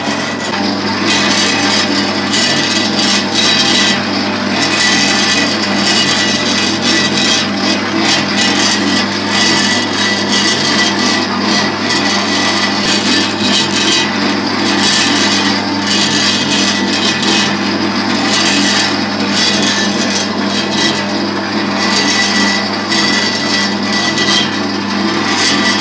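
Electric dough mixer kneads bread dough for cinnamon rolls, a loud, steady mechanical grinding and rubbing churn that runs continuously without pauses or speech.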